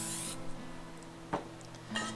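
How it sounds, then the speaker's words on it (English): A spray bottle mists a canvas during a river landscape painting session, giving three short hissing spritzes, one at the start, one in the middle and one at the end, over quiet room tone. "Spray that down a little bit"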